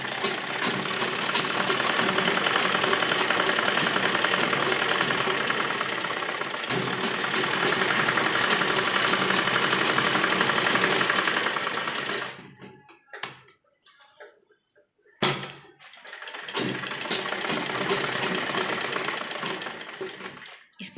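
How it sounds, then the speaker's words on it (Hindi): Electric sewing machine stitching a seam on an A-line palazzo with lining, a steady rapid whirring run, pausing briefly into near silence, then resuming the continuous close-up stitching. "अब हम इस तरफ से इसकी सिलाई लगाएंगे।"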